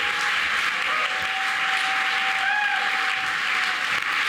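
Steady applause from a large awards-ceremony audience, continuous and even throughout with no talk over it.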